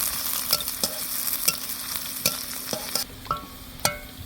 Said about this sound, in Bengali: এই যে পেঁয়াজটাকে আমি ভেজে নিব বাদামি করে।